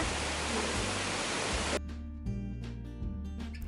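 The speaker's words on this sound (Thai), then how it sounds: "มีเสียงน้ำตกที่เป็นเหมือนเสียงเพลงคอเบาๆคอยสร้างบรรยากาศและอารมณ์ให้เราสุนที" A waterfall in a natural outdoor setting gives a loud, rushing broadband roar for under two seconds, then cuts off abruptly and gives way to soft tonal music.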